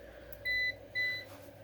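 An APC UPS 450VA battery backup surge protector (BN450M) gives two short, moderately loud electronic beeps, evenly spaced, over a quiet room hum.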